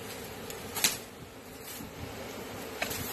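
A swarm of honeybees during a relocation, their steady buzzing hum carrying on throughout at moderate level, with a few brief louder passes of individual bees near the microphone.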